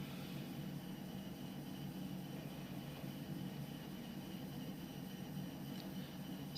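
Fenix A320 airliner in Microsoft Flight Simulator taking off northbound, a steady, loud broadband engine roar with a low rumble holding constant throughout, no voices.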